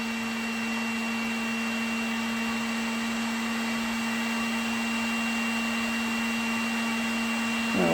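A heat gun heats a solder ring, blowing hot air in a steady, loud, close whirring fan hum with a constant tone throughout and no one talking.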